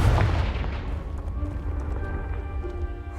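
A Confringo blasting spell detonates in the video game Hogwarts Legacy, a loud close boom with heavy low rumble at the start that trails off into a sustained roar of debris and reverberation.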